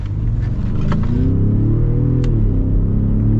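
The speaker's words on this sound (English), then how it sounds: "I actually like this EcoBoost sound" Ford Raptor with an EcoBoost V6 running close by, a steady loud exhaust drone with rising and falling revs throughout.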